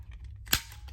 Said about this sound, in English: I'm going to snip the corners.